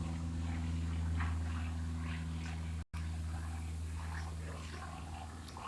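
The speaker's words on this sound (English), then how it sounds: "Gonna allow the airplane to pass" Airplane passing overhead, a faint, distant steady drone with low hum that continues throughout, briefly interrupted by a momentary dropout midway.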